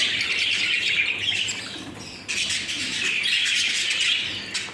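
A flock of pet budgerigars chirps and chatters continuously, a dense, bright, busy twittering that stays loud and close throughout with a brief dip midway, no voices.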